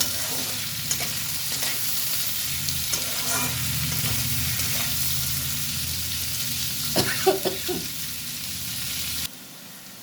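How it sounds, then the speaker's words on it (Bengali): Ridge gourd frying with onion and green chili in a pan, a steady close sizzle throughout with a few scraping stirs, cutting off abruptly near the end. "এবার এটাকে ভালো করে পেঁয়াজ আর চিচিঙ্গা কাঁচা লঙ্কা সব একসাথে ভেজে নেব"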